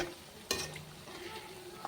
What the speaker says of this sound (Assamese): এনেদৰে পিঠাখিনি মই ওলোটাই দিলোঁ আৰু অকণমান সময় তাক ভাজিব লাগিব